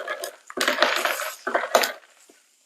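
Raspberries drop into a glass of Rose Spritz with clinking, rattling splashes in a few bursts, close and fairly loud, then fading to quiet.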